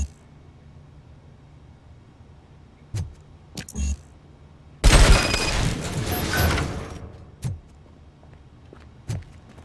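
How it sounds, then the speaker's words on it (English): In the video game RoboCop Rogue City, a fuse box is shot and destroyed to open a gate: a loud burst of gunfire and crackling destruction lasts about two seconds, set among scattered thuds and clanks. "Just destroy the fuse box, and the gate will open."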